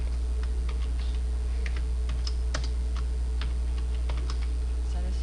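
Keys clacking on a computer keyboard as the letters LOV DOG are typed into Illustrator, scattered irregular taps over a steady low hum, fairly close and moderately loud.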